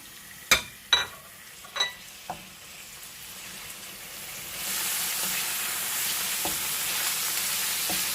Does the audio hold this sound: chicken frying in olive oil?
yes